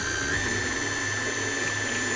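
A steady, continuous electric hand mixer whirs close by, whipping cold cream for a pumpkin cheesecake, a constant high motor whine with no breaks.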